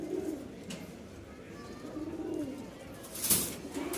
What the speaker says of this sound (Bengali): নটটা ডাকতেছে, খুব সুন্দর একটা জোড়া।